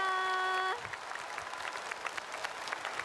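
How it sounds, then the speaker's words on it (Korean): Audience applause at a Korean trot music show, steady many-handed clapping that follows a held musical chord which cuts off abruptly, then continues alone at a moderate level. "송기섭 군수님에게 박수를 보내드리겠습니다"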